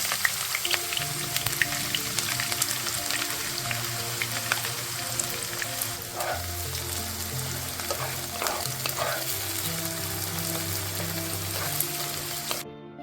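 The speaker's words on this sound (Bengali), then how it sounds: "প্যানে সাদা তেল দিয়ে গরম করে তাতে স্লাইস করে কেটে রাখা পেঁয়াজ ভাজতে হবে" Sliced onions fry in hot white oil in a pan: a dense, crackling sizzle with occasional stirring scrapes, steady throughout over a soft tonal melody underneath, then cutting off at the end.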